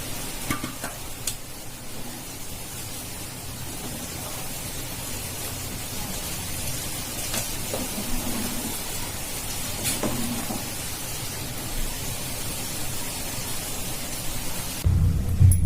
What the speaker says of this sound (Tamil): குழம்பு நல்லா கொதிக்க ஆரம்பிச்சிருக்கு.